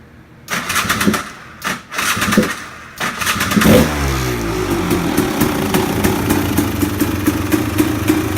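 A KTM 300 XCW dirt bike is cold-started with no choke: a few short cranking bursts, then the two-stroke engine catches and revs loudly and close by before settling into a rough, steady idle.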